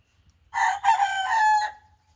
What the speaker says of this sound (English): y'all don't back down for Mr. Rooster